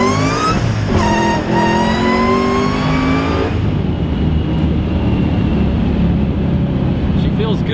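Heavily modified 900hp Ford GT500 revving hard in second gear with wheelspin, a loud rising engine whine climbing in pitch then dropping as the gear runs out, followed by steady road roar and cabin noise.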